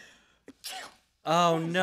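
A single sneeze in a TV sitcom scene: a brief intake, then a short breathy burst, followed closely by a voice reacting in speech.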